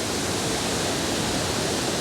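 A waterfall pours in a steady, dense roar of falling water, loud and unbroken throughout, with no voices or other sounds.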